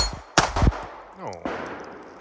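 Shots from a S&W Equalizer pistol fire at steel targets: a couple of sharp, loud reports close together, then a later impact, with a metallic ring trailing off.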